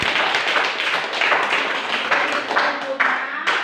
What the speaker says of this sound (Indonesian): Tepuk tangan untuk Teddy